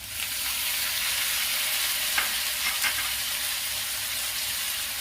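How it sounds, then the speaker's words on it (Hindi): Onions frying in oil for a chana dal tadka as tomatoes go in, a constant loud hissing sizzle with a couple of brief scrapes and splashes partway through. "प्याज अच्छी तरह भून चुका है, इसमें मैं टमाटर डाल दूंगी"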